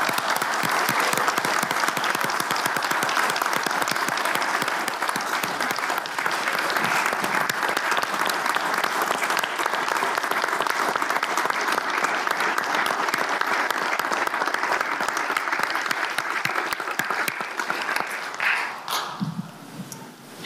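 Sustained applause from those attending a city council special meeting in Paso Robles, a steady dense wash of clapping lasting about twenty seconds before tapering off at the end.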